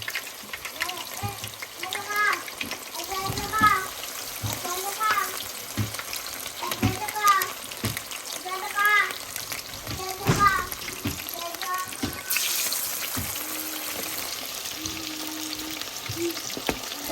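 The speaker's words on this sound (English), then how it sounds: "our oil is nice and steamy. So I'm going to go ahead and add the remainder of the wings into the pot" Chicken wings fry in hot oil in a pot with a continuous sizzle and bubbling, interrupted by scraping, clattering stir sounds, with a voice and other talk faint in the background.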